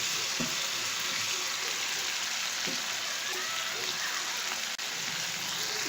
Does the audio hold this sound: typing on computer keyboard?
no